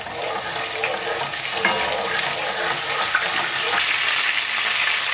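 Garlic puree and cumin seeds fry in hot oil in a pan, giving a steady, loud, close crackling sizzle with a few sharper pops throughout.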